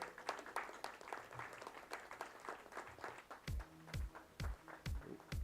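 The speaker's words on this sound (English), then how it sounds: "a strong lot of applause should go to Banu Kaladhar Reddy and his team." Audience applause at a KRSSDI 2023 event, a steady wash of many hands clapping throughout, with a few louder, closer claps and low thumps standing out near the end.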